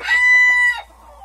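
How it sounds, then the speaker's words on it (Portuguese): Polish chicken rooster at an ornamental poultry breeding farm lets out a loud, close harmonic crow lasting under a second, then fades into quieter low clucking. "Esse galo virgem é um espetáculo"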